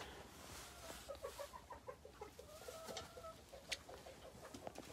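Chickens in a coop around evening roosting time, wearing protective saddle aprons, clucking and murmuring in short repeated calls, some nearer and louder, over a steady barn room hum.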